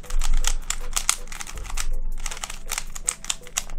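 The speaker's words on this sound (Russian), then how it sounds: "Вращается кубик от Funxim вполне достойно." A FanXin Penrose puzzle cube is twisted quickly by hand, giving a rapid, irregular run of close plastic clicks and rattles.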